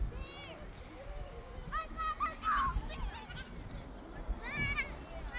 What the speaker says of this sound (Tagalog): Maraming palang kambing dito.